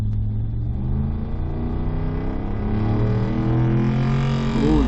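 A car engine with a ported Dorman intake in place of a 4.6 PI intake revs loudly at a drag strip, its pitch climbing steadily as it accelerates hard, close and dominant throughout.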